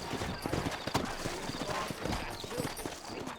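Horse hooves clip-clop at a steady trot in the Western video game Red Dead Redemption, a continuous rhythmic patter that stays close and moderately loud, with a voice speaking faintly over it.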